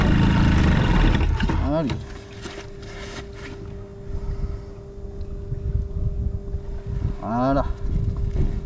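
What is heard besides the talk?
Airsal CPI 70 scooter engine starting and running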